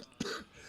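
A single short, sharp cough from a host who is under the weather, close to the microphone on a morning talk show, followed by quiet room tone.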